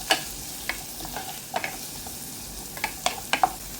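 Fenugreek seeds hit hot oil for a Kerala-style fish curry and fry with a soft, steady sizzle, broken by scattered light pops and stirring ticks close by, with no voices.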